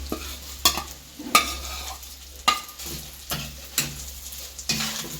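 Fried anchovies are stirred in a sizzling pan with vinegar for a Kerala fish pickle. A utensil scrapes sharply in an irregular rhythm over a soft frying hiss.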